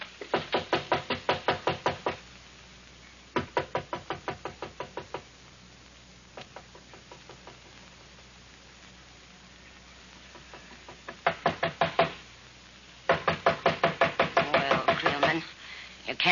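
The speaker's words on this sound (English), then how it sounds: "Can't let them knock all night." Knocking on a door as a sound effect in an old-time radio Western drama: bursts of rapid, loud, close raps come in several separate volleys with short pauses between them.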